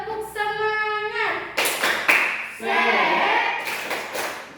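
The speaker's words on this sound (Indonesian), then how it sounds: "Tepuk semangat." Children chant together between bursts of quick rhythmic clapping in a classroom spirit cheer, the claps landing in short sharp clusters between the sung calls.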